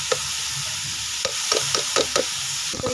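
Minced meat with garlic and spices sizzles in a pan while a spoon scrapes and stirs in a series of short, sharp strokes over the steady frying hiss.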